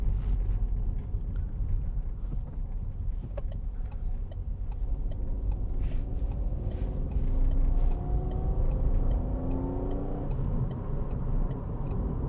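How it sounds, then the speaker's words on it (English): A Citroen C3 Picasso 1.2 PureTech with a three-cylinder petrol engine drives along, giving a steady low engine drone and road rumble from inside the cabin, with a faint rising buzz partway through and occasional light ticking. "It's got the little buzz from the 3-cylinder engine, which is quite good."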